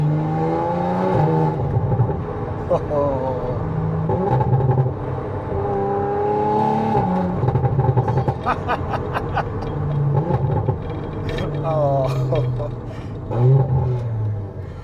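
An Audi RS4 rated at 331 kW is driven on the road, its engine humming steadily and rising and falling as the throttle changes, with brief revving surges heard from inside the car.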